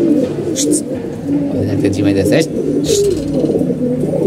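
Pigeons coo in low, throaty murmurs close by, mixed with a person talking over them.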